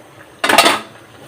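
A lid placed on a cooking pot in a home kitchen, a single close metallic clank with a short ringing rattle that dies away within a fraction of a second.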